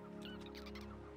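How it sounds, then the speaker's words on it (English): Birds in the video game Postmouse chirp and call in a quick, faint burst of honk-like notes over a steady background hum. "I hear birds."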